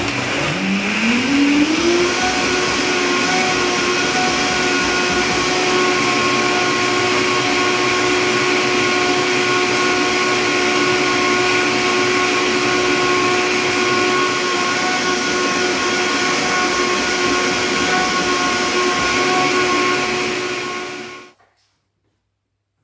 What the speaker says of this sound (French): Il n'y a plus qu'à mixer.